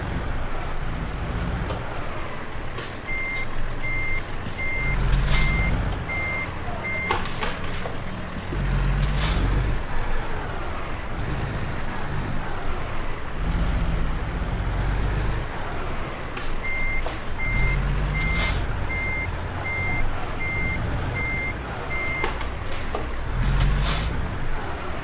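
Repeated reversing beeps from a semi truck backing a trailer toward a gray building in a driving simulator game, steady and loud in regular bursts over a constant engine rumble with hissing air brakes.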